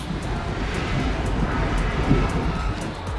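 Reunification Express overnight train pulling out of Da Nang, a steady low rumble and rolling rail noise heard from inside a two-bed sleeper cabin, continuous and moderately loud with no talk.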